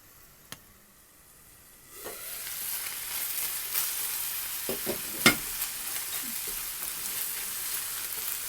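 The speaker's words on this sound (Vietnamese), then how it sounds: "Mình đậy nắp lại, mình để cho thịt này nó chín." Meat seasoned with a pinch of MSG cooking under a lid in a pan, a steady soft sizzle that rises after a quiet start, with a few scattered pops and one sharper tap midway.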